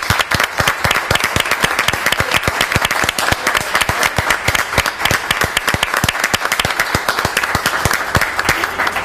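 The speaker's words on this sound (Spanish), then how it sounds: "para quien pido un aplauso" Loud, dense studio applause from a television program's audience, steady claps filling the whole stretch with no speech over it.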